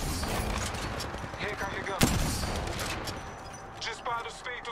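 Bursts of gunfire from a firefight in the mobile battle royale game Apex Legends Mobile, with one sharp loud shot standing out amid rattling shots and game noise, while voices talk throughout.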